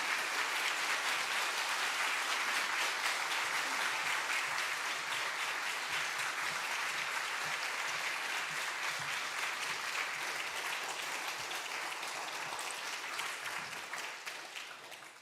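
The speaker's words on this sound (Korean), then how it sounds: "큰 박수로 우리 환영하고" A church congregation at a New Year revival service claps to welcome the pastor, a steady dense roar of applause sustained throughout and fading slightly at the very end.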